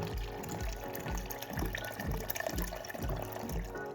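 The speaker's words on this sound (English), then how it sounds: "I'm going to start by pouring some fresh cool water into the bucket" Fresh cool water is poured into an enema bucket, a steady splashing, gurgling stream that rises and falls in a regular rhythm. It is close and fairly loud, with no talking.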